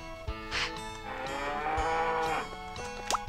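A cow moos in the Harvest Moon 64 video game, one long, loud, drawn-out lowing call with a rising and falling pitch, clear and alone with no talking over it.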